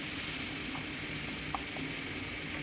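Spice paste with mashed soybean and kohlrabi frying in a pan, a faint steady sizzle with occasional soft scraping stirs, no voices.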